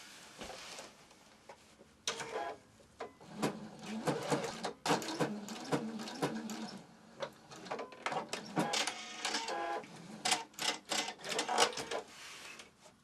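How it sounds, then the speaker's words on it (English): A sewing machine stitches fabric for a lined wine bottle cover, sounding in uneven bursts of close clattering needle strokes with short pauses between runs, no voices over it. "So what you would then do is just sew directly along there to secure them."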